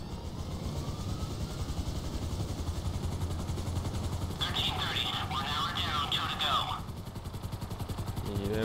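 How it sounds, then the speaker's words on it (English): A helicopter flying in the video game GTA V gives a steady, close rotor and engine drone that runs the whole time beneath voices and other game sounds. "Ajmo u chopper."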